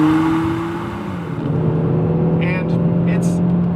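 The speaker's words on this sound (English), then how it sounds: "it is not the best sounding engine. It's a little tinny sounding." Engine of a 2022 Kia Forte GT blipping on a downshift, a steady droning hum that shifts pitch midway, with a slightly tinny tone and muffled voices talking over it inside the car.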